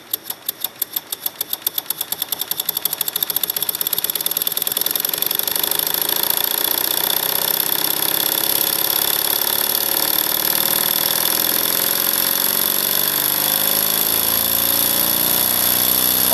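A small engine running on compressed air at about 40 psi starts with rapid chugging pulses that speed up into a fast, continuous mechanical rattle, loud and close, with a high hiss throughout.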